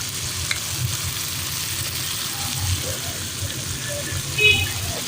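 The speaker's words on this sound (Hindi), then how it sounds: "चने जो हैं वो तकरीबन भुन गए हैं अच्छे से।" Chickpeas roasting in a hot pan for Lahori chana, a steady close sizzle and crackle with occasional stirring scrapes, no talking.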